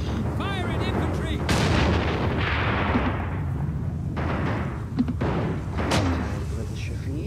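Artillery and rifle fire from a World War II battle-of-the-Bulge mission in a strategy video game: repeated heavy booms and sharp cracks over a dense battle din, with shouted voice lines mixed in.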